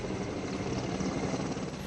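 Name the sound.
Mi-17 V5 helicopters flying in Republic Day parade formation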